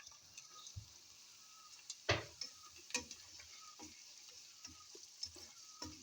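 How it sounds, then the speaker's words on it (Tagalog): Onions sautéing in a wok on a home stove, quiet sizzling under scattered sharp clinks and scrapes of a utensil stirring, with one louder clatter partway through; no talk. "In another wok, now I'm sauteing these onions."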